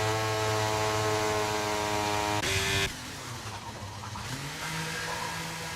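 F1 23 race cars run the Jeddah circuit in the video game during outlaps, a high, steady engine whine that flares briefly before dropping to a quieter, lower engine drone.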